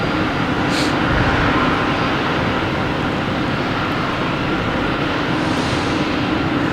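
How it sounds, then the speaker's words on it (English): An Alaska Airlines plane at Boston Logan Airport makes a loud, constant jet roar that fills the whole stretch without easing, with no voices over it. "Oh, the Alaskan Airlines making noises, saying goodbye to us."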